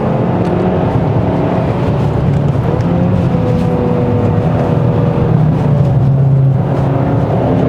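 A 2021 Hyundai Sonata N Line accelerating on a winding road, heard as a loud, steady engine drone from inside the cabin with rising and falling pitch as it pulls through the bends.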